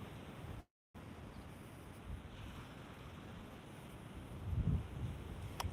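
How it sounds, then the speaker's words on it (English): Ocean surf breaking at a beach under an offshore breeze, a steady wash of waves and wind noise throughout, with a brief dropout near the start and a slightly louder surge of surf toward the end; no talking. "We've got an offshore breeze right now."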